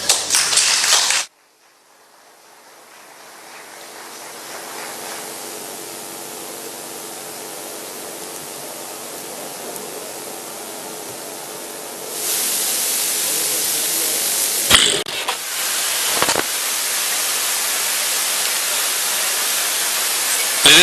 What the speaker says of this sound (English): Ladies and gentlemen, we beg you, don't clap next time, please.